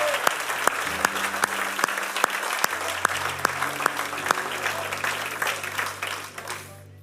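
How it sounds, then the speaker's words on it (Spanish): A church congregation claps together at a sermon, steady crowd applause with sharp rhythmic accents and a low sustained organ or keyboard tone beneath, fading out near the end. "Dale un aplauso al Señor."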